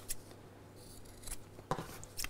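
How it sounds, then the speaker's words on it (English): Scissors snip the corners of a fabric cushion cover during sewing, a few quiet, separate cuts scattered across a couple of seconds, close by with no talking. "So let's trim the corners back a little bit."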